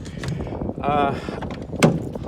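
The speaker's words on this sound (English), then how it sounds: "We open this door, 1 second." The side door of a VW T4 campervan conversion slides open with a brief rolling rumble followed by a sharp thump as it latches, heard up close.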